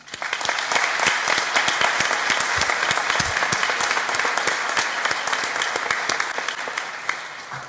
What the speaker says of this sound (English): Please join me in applauding all these people who have helped you in your achievement.